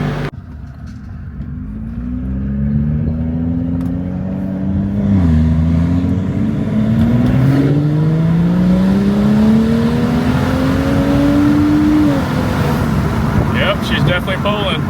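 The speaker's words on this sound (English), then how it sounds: "Car drove great, built boost, did everything it needed to do" BMW fitted with a swapped N55 engine driving and accelerating, the engine climbing through long rising pulls with a brief shift dip, loud and close, with road noise and voices talking over it.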